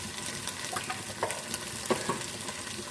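Minced keema frying and being stirred in a pan, with a steady sizzle broken by scattered scraping stirs of the spoon, close and moderately loud.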